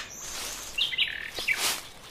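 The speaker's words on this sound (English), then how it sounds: "Hey, that looks like a new bird." A bird, apparently a parrot, gives a few short chirping calls over steady background hiss, close and moderately loud, with no talking.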